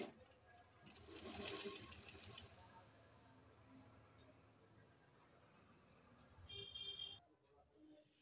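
A sewing machine stitching the hem of a salwar, its fast mechanical whir swelling loudly early on, then running softer and steady, stopping near the end.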